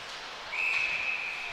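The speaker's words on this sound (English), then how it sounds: "Another whistle blown." A referee's whistle is blown during an ice hockey game, one sustained shrill tone lasting about a second over steady arena crowd noise.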